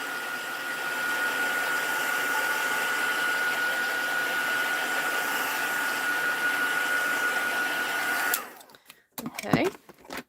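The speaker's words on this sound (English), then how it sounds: "Now I'm just going to waft my heat tool over the top just for a few seconds, just to dry that ink off really well." A heat tool blowing over freshly applied heat embossing ink, a steady loud whirring blast of air that runs for about eight seconds and then clicks off, followed by faint handling noises.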